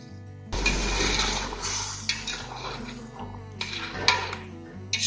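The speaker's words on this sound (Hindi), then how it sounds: "अब ऐड कर रहे हैं वाटर। अगेन वार्म वाटर ही है जो ऐड कर रहा हूँ" Warm water is poured into a pot of mutton masala while making rara mutton. A steady rushing splash lasts for several seconds, with a few clinks from the pot and faint talk over it.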